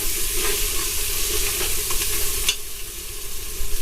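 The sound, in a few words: tomatoes sautéing in a pan for mutton biryani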